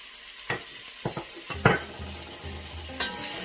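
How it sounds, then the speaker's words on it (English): Onions and garlic sizzling in oil in a pan already used for tilapia fish, a soft steady sizzle broken by several clanks and scrapes of a utensil on the pan. "So in that pan, I'm going to add my onions,"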